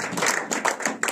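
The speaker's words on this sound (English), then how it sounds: "Let us clap our hands." A church congregation claps together during worship, a close run of rapid, overlapping hand claps in a steady rhythm.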